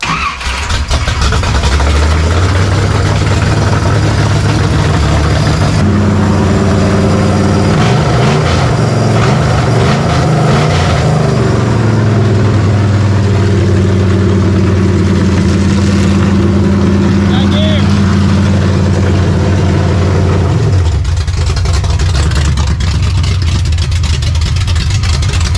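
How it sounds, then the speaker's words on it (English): A 1969 Chevy Nova engine cranks, fires and settles into a loud, steady idle with a deep rumble and slight rev changes, close by, then cuts off near the end as a voice speaks. "Let's fire it up and see if we have some gears."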